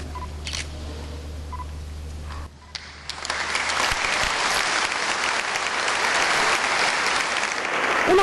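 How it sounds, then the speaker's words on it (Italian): Long, roaring applause fills Bressanone cathedral at a bishop's ordination, beginning after a quieter stretch with a few camera clicks, then swelling into dense, sustained clapping from a large congregation. "Un applauso lungo e scrosciante per festeggiare Monsignor Michele Tomasi"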